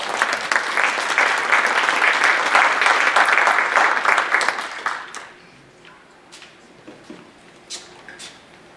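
A lecture audience claps loudly and steadily for about five seconds to welcome the speaker James Corbett, and the applause then fades to a few scattered claps and faint room noise.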